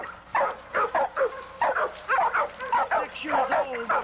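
A six-year-old pit bull gamedog, part Patrick and part Eli breeding, at a kennel gives a run of short, close, repeated barks and yips in quick bursts, with a voice speaking between them.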